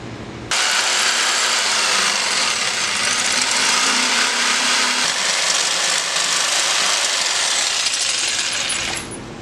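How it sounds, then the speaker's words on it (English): A jigsaw cutting grooves into wooden boards, running loud and steady as one continuous harsh buzz for about nine seconds before it cuts off, with no talking. "To do this, I'm going to use a jigsaw."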